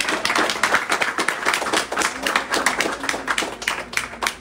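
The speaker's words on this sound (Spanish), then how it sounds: "Un aplauso." Audience clapping for a couple married 64 years, greeted during a Spanish-language church gathering led by a priest; fairly steady, close handclaps with short bursts throughout.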